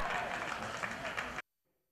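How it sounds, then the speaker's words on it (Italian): Short burst of crowd applause in a football stadium as the Giulianova team leaves the pitch, steady clapping that cuts off abruptly after about a second and a half. "Esce tra gli applausi il Giulianova"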